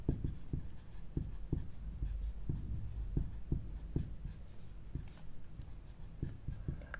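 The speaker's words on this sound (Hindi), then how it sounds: "तो यहाँ पे जो लिखा है उसको हम लोग लिख लेंगे" Pen writing on paper with a run of short, soft scratching strokes in an irregular rhythm, close and quiet, with no talk.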